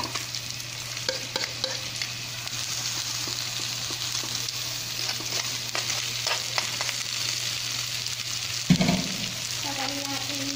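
Crab goes into a pan of frying shrimp, and a steady sizzle runs throughout with stirring and scraping, plus a brief louder clatter near the end.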